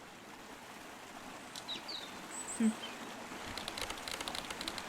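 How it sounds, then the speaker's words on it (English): Flowing water in the game Drowning, a faint steady trickle of a stream with a few soft bird chirps and a brief tap, quiet and continuous. "I love the sound of water"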